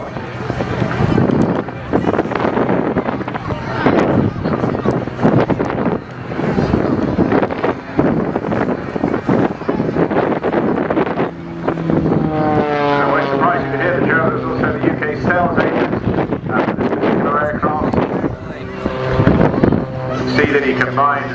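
Carbon fibre aerobatic aircraft with its propeller at an air show, engine drone rising and falling in pitch beneath continuous commentary over a public address, with wind buffeting the microphone.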